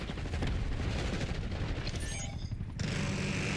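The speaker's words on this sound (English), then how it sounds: "Enemy sniper shooting." Enemy sniper fire and battlefield gunshots in the video game Black Ops 6, a dense, constant barrage of shots and rumbling impacts that fills the whole moment at a steady, fairly distant level.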